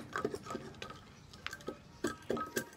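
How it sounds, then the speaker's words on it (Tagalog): A metal fork clinks and ticks against the inside of a coffee cup in quick, uneven bursts, close up and fairly quiet, with no talking. "Haluin muna natin siya ng tinidor ko."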